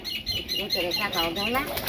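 A pigeon flaps its wings close by in a village setting, a busy fluttering burst of wingbeats over two seconds, with faint chirpy calls mixed in.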